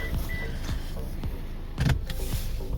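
Cargo cover shade in a 2018 Subaru Outback Limited 2.5 being drawn closed, a short motorized whir with a brief soft clunk near the end, close and alone in a quiet car interior.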